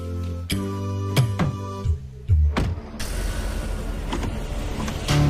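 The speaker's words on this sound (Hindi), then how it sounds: "ये गाड़ी नहीं रुक रही" A runaway car that won't stop, with tonal mechanical whines and clunks followed by a steady, loud engine-like rumble close by.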